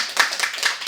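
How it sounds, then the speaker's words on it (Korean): A few quick hand claps from a church congregation at a Sunday afternoon service, four or so light, evenly spaced claps over about a second. "우리 박수 좀 한번 해드려야 될 것 같아."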